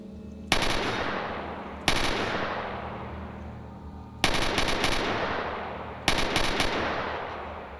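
Gunfire from the video game S.T.A.L.K.E.R. Shadow of Chernobyl: four separate loud bursts of rapid automatic fire, each followed by a long reverberant decay, spaced unevenly across the stretch with no talking.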